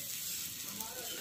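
Cumin paste and ground spices (turmeric, chilli powder, cumin, salt) fry in a pan with a steady, close hiss and sizzle that stays even throughout, with no voices.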